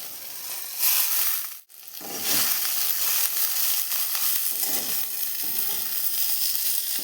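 Brinjal fried red in a pan sizzles loudly as pre-fried neem leaves are added, a steady broadband hiss with a brief drop partway through, then continuing sizzle with occasional light scraping.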